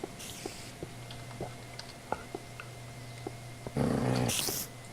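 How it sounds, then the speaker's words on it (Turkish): In Minecraft, a low animal growl rumbles under scattered faint clicks and ticks, then a louder harsh snarl swells briefly near the end. "Hala hırlama sesler duyuyoruz."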